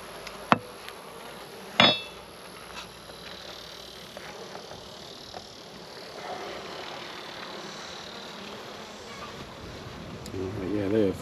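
A captured swarm of honey bees buzzes around freshly built comb in a hive, a soft, continuous drone with a few sharp knocks and voices talking over it.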